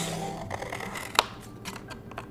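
Scissors snip through paper while a lily pad petal is cut out, a few soft close rustling cuts with one sharp click of the blades, heard alone without speech.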